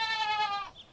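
Goats bleating in a close, loud call with a strong harmonic wavering tone for most of a second, followed by a fainter second bleat, in a Sudanese rural setting at sunset.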